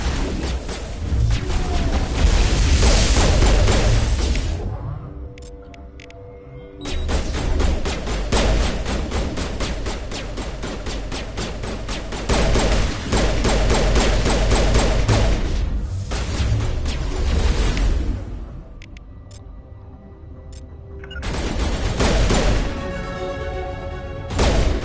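A battle in Mass Effect Legendary Edition, with dense, loud gunfire and crashing impacts in long sustained stretches, separated by short lulls where the firing briefly drops away.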